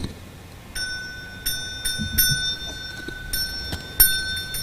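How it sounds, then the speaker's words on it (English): Small bells ring in several bright, scattered strikes with lingering metallic tones, over faint background rustling. "The spirit bells are going already."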